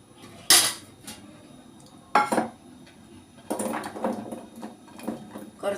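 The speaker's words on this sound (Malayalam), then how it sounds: "നമുക്ക് ഇതൊന്ന് കുറച്ചെടുത്ത് അരിഞ്ഞെടുക്കാം." A knife chops ingredients on a board in a home kitchen, a few sharp isolated knocks followed by a looser cluster of cutting taps and clinks, close and without speech.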